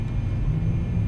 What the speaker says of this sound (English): Oh, and the rumble as well. Because we've got our landing gear down still.